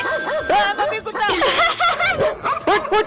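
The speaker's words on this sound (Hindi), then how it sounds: "मम्मी कुत्ता" A dog barking repeatedly in quick yelping bursts, loud and close, over a busy background with a ringing tone and some talk mixed in.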